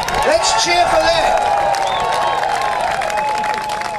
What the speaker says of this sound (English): I want you to put your hands together and clap for that and say, yoo-hoo! Let's cheer for that.